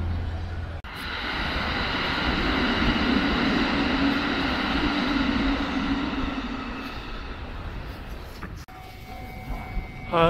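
A steady, sustained rumble of a Hanshin Namba Line train passing over the Yodo River railway bridge at moderate distance, with a droning hum that swells and fades slowly.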